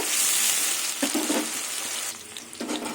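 Mushrooms sizzle in hot oil in a pan, a loud, bright, continuous frying hiss with a few soft stirring knocks partway through, heard up close with no one talking.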